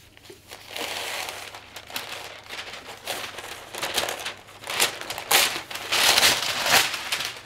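Baking paper is torn and crinkled by hand while lining a cake tin for cheesecake, giving irregular bursts of crackly rustling that rise and fall, close and fairly loud, with no talking.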